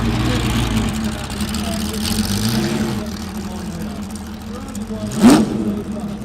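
A Porsche engine idling with a steady low rumble, then a brief sharp rev that rises and falls near the end, heard under someone talking.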